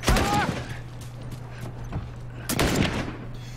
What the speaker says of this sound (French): je vois d'où viennent les coups de feu